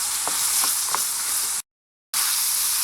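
Ground beef sizzling in a mess kit, a close, steady frying hiss with a few soft scraping stirs, cut by a brief silent gap before resuming.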